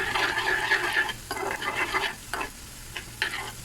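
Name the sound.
cumin seeds and chopped garlic frying in oil for tempering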